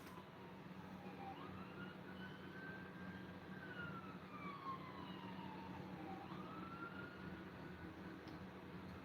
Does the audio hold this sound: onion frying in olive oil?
no